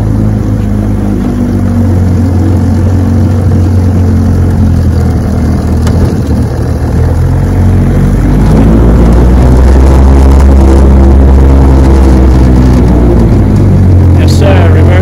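A 1965 Johnson 9.5 HP outboard motor runs in reverse on a bayou, a loud, steady, close-up engine drone that grows slightly stronger partway through.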